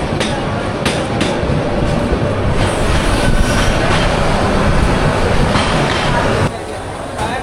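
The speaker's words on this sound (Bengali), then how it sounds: "বজরা থেকে আমাদের ট্রেন ছেড়ে দিল" Upokul Express passenger train running at night in Bangladesh, loud continuous rumble and rattle of wheels on track with periodic clacks, heard from inside the moving train, easing slightly at the end.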